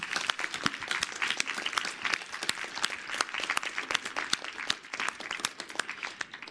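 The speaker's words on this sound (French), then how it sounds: "on va applaudir Valère" Audience applause at the close of an ecology conference talk, lively clapping with sharp individual claps standing out, continuous throughout.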